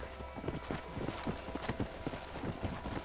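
Horse hooves gallop in a steady, rapid clip-clop rhythm inside the Red Dead Redemption game, loud and close, with music and ambient game sound underneath.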